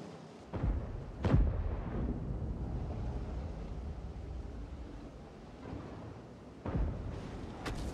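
Tank cannon fire booms in a World of Tanks match, one loud shot early followed by another heavy blast, then a distant rumble and a final strong report, all without talk.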